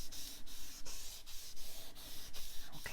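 Glittered paper being rubbed during card crafting: close, soft scratchy strokes repeating at a steady pace, each swipe brief, with no talk.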